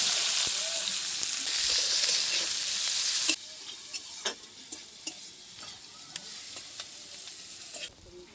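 Onions fry in hot oil with black cumin and chilli, starting as a loud, close sizzle that abruptly drops to a softer crackle punctuated by sharp stirring clicks and spits.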